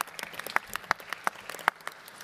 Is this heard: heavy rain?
no